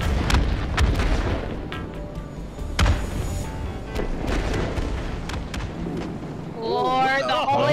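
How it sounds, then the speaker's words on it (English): A booming explosion from the holy hand grenade of Antioch in a community golf video game, with a couple of thuds and a rumbling burst amid lively chatter, followed by a bright rising choral-like tone at the end. "it's the holy hand grenade of Antioch"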